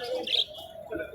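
White pigeons give short chirping and cooing calls at close range, faint and brief, with a soft murmur of people in the background.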